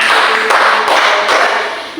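A classroom group claps together in a few sharp, evenly spaced beats, loud and close in a bright room, with no talking over them.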